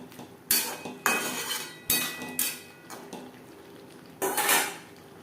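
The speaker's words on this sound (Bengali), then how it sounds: "ধনে পাতা লাউর সাথে বেশ ভালো করে মিক্সড করে দেবো" A spoon clanks against a pot while chopped coriander is mixed into bottle gourd curry with masoor dal fritters, several loud metallic scrapes and knocks in bursts with short pauses between, no talking.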